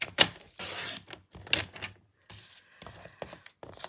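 Cardstock being cut with a paper trimmer for card making: several short, crisp slicing and clicking strokes separated by brief pauses, close and fairly clear with no talking.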